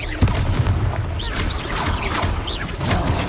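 Booming spell blasts from the fire-based Confringo spell in Hogwarts Legacy ring out repeatedly over a dense, steady bed of game sound, with bright chirping effects layered on top.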